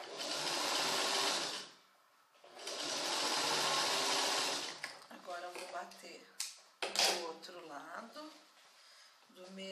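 A sewing machine stitching a seam on trousers runs in two steady, loud whirring bursts, then stops as a person speaks close by with small handling clicks between phrases.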